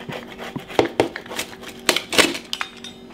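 A crispy-crusted homemade Mexican chicken pizza being cut, with a series of sharp close crunches and cracks in irregular bursts against a quiet kitchen background.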